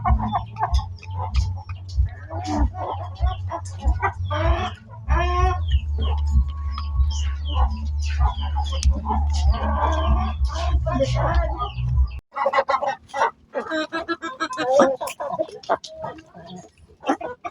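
Backyard chickens and chicks cluck and peep intermittently while being fed rice in their coop, mixed with a low mechanical hum for the first two-thirds and someone talking throughout.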